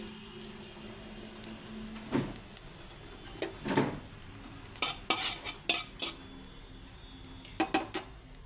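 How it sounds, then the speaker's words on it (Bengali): Nigella seeds tempering in hot oil in a wok for a thin potato curry, with a quiet sizzle under repeated metal stirring clinks and scrapes that come in short bursts. "কড়াইয়ে তেল গরম হয়ে গেছে এখন দিয়ে দিচ্ছি ফোড়নে কালো জিরে"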